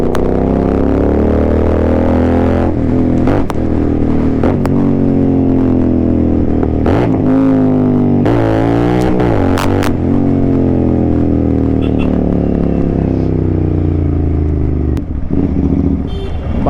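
A Royal Enfield GT 650 motorcycle engine on the road, loud and close, idling with a rumbling beat and rising in several revs with some mechanical clatter.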